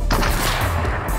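Rapid bursts of gunfire from the video game Fortnite, loud and close, cracking one after another with booming low end throughout, no voices over it.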